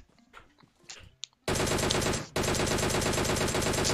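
Loud automatic gunfire bursts out in a shooter game, a dense continuous rattle of rapid shots with a brief break before the firing resumes just as hard, following quieter game sounds.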